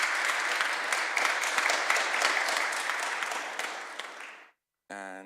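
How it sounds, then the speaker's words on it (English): A panel audience at the ETHWarsaw 2022 hackathon event applauds a guest, steady dense clapping that fades out, then a brief voice begins alone after a short gap. "please give a nice round of applause for our first guest"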